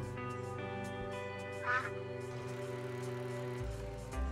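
Duck quacks in the video game A Space for the Unbound, a short burst of quacking near the middle over a steady music bed.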